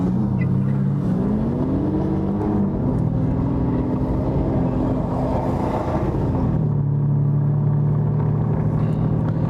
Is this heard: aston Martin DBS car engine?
yes